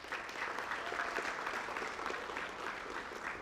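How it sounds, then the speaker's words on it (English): A senior night gathering for a youth soccer club claps for the players' parents, producing a sustained, dense patter of many hands at a steady level throughout, with faint crowd murmur beneath. "I think we owe them a nice round of applause today"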